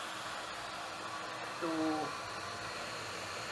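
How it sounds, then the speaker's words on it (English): A vacuum cleaner draws leftover water out of a Yamaha R15 motorcycle fuel tank, giving a steady, moderately loud whooshing hiss. A brief tone rises partway through, and a voice speaks a single word. "I'm using a vacuum cleaner"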